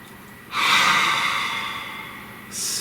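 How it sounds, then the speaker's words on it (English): A deep, close inhale, a long airy breath in that swells and slowly fades over about two seconds, then the start of another breath at the end. "Please take a nice deep breath."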